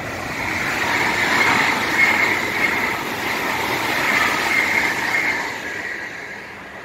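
A train rolls past on a railway with a steady rumbling roar that swells and fades slightly over several seconds, no talking heard.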